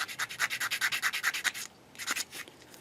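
Medium-grit sandpaper rubs over a part of a Bandai 1/12 scale Boba Fett model kit in quick, even back-and-forth strokes, a rhythmic scratchy pulse up close that pauses briefly and then resumes with a few slower passes.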